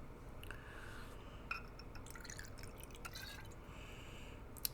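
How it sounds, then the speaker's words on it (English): Ketel One Botanical vodka pours into a small shot glass, a quiet, close trickle of liquid with faint glassy clinks and a few sharp drips, no talking. "We're going to get our vodka poured into this one."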